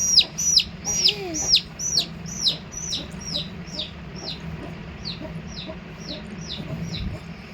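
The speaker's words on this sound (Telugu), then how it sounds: "మా కోడిపిల్లమ్మా" Chicks peep in a rapid, regular series of high chirps, loud and close at first and then fading, with a voice briefly speaking near the start.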